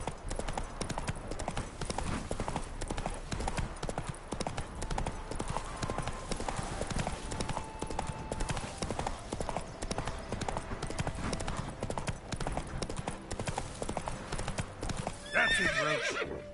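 Roach, a horse in The Witcher 3, gallops with rapid, even hoofbeats that drum continuously and close up. A short whinny rises near the end.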